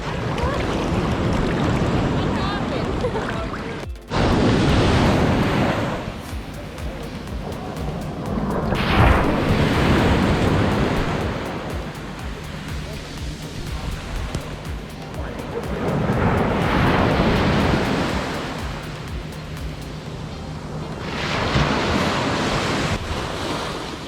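Ocean waves at Koh Lipe, Thailand, roll and crash close by in loud surging swells that rise and recede repeatedly, mixed with steady wind buffeting the microphone.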